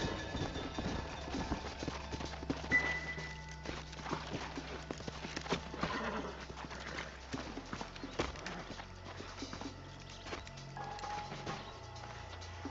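Horse hooves clip-clop in an uneven, steady walking rhythm in the video game Red Dead Redemption, close by, with a low rumble and scattered clatter underneath.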